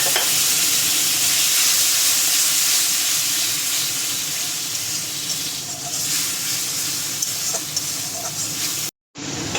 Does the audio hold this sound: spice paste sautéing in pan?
yes